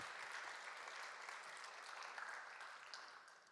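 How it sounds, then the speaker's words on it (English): A student film festival awards audience applauds a senior award winner with steady, dense clapping that holds for a few seconds, then begins to fade near the end. "Let's give Ryan a round of applause."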